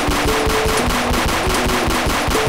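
Rapid gunfire from a Glock pistol in a Roblox hood shooting game, a fast run of loud, evenly spaced shots with no pauses, close and dominating the mix with no talking.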